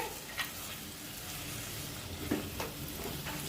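Ground mustard and chili paste frying gently in a pan for a Bengali fish curry, a quiet continuous sizzle with a few soft stirring scrapes.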